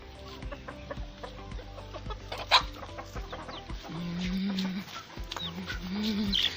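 Backyard chickens in a village yard clucking in short, scattered calls at moderate distance, with a few louder close clucks and low rural background noise; no one talks.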